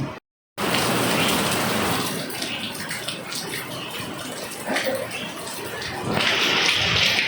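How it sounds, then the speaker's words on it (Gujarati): Heavy rain pours down outdoors onto a rooftop terrace, a dense, steady hiss and wash of water that swells louder toward the end, with a brief gap of silence at the very start. "ઘણો વરસાદ પડે છે"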